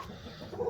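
A hen clucks briefly among egg nests on a poultry farm, a short low clucking burst in steady background noise, close but faint.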